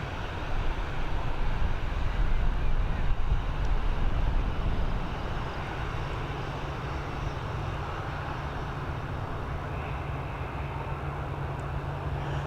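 An Airbus A320 bound for Madrid roars at Dublin Airport, a loud, broad, continuous engine rumble that eases slightly partway through and holds steady to the end.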